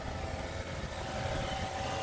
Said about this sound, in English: But the engine, that sound, it feels okay with me.